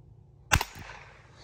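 Ruger Wrangler .22 single action pistol firing outdoors, one sharp crack followed quickly by a fainter second report, then a brief fading tail.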